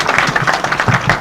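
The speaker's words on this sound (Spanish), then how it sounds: "Pedimos fuertes palmas" An audience claps for a former agriculture minister being introduced at a university book presentation, a dense steady patter of many hands, loud and close, with no voices over it.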